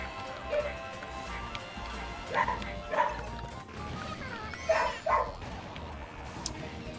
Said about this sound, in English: My dad is antagonizing my dog.